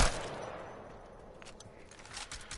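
Gunfire in Apex Legends, a loud opening shot followed by quieter scattered reports and a short burst of rapid hip-fire near the end, close but fairly low overall.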